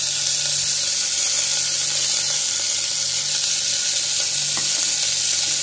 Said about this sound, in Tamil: வெங்காயம் பொன்னிறமாக ஆகிற வரைக்கும் கொஞ்சம் நேரம் வதக்கலாம்